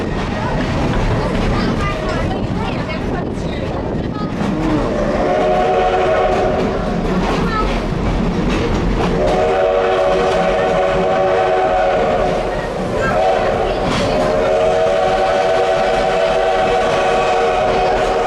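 Cowboy steam train rolling between Keystone and Hill City in 2018, a steady rail rumble close by with long sustained whistle blasts sounding repeatedly over it, and passengers talking throughout.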